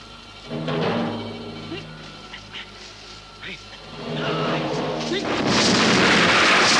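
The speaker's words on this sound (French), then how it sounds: "Attention à la bombe!" A bomb blast in a martial arts film: a loud booming explosion swells up, dips, then a second heavy roaring blast builds near the end, with music and shouting voices underneath.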